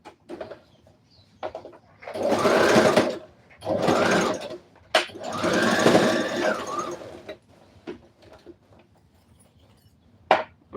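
A sewing machine stitches fabric for a Christmas dress in several loud bursts of rapid mechanical whirring separated by short pauses, with a few clicks and knocks in between.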